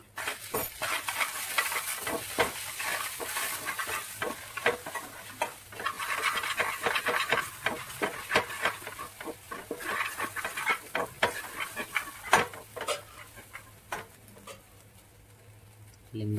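Sabudana khichdi with sugar is stirred in a pan, giving rapid, irregular scrapes and clinks over a light sizzle. The sound is close and continuous, with a voice talking at times underneath.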